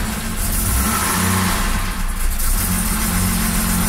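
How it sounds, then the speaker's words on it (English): Classic daily-driver car with fluid leaks and freshly sealed exhaust, its engine running at a steady idle with a faint rev, loud and close, no talk. "I'm going to start up the car so we can let that burp"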